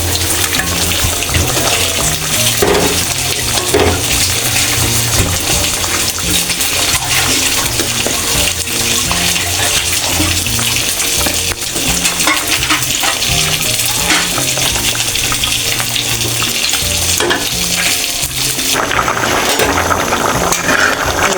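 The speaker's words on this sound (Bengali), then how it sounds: "আমি এখন ভেজে রাখা মাছগুলো দিয়ে দেব।" Rohu fish pieces, already fried, go into a simmering cauliflower and potato curry, with steady loud sizzling and bubbling alongside scraping stir strokes that run continuously throughout.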